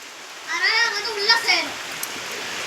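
Heavy rain pours down in a steady, dense wash while a person talks over it at close range.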